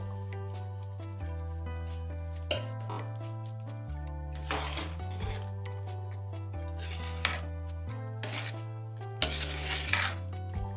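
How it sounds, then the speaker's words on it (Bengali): Metal utensil scraping and stirring ground coriander and spices into food in a kadai, several short rough scraping bursts over steady background music. "আর সামান্য পরিমাণ ধনের গুঁড়ো ওপর থেকে ছড়িয়ে এবার এটা ভালো করে মিক্স করে নেব"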